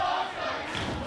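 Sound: wrestling crowd chanting Dante

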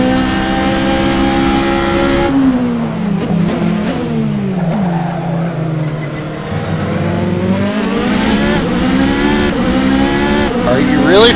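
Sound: Toyota TS040 LMP1 hybrid race car in racing simulator video game

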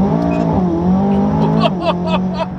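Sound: tuned McLaren 570S sports car accelerating hard

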